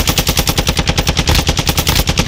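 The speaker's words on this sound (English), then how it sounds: "Bro, what are you shooting, bro? What are you shooting?" Rapid automatic gunfire from the Warzone battle royale video game, a dense, loud, steady burst of shots that runs unbroken for about two seconds with no talk over it.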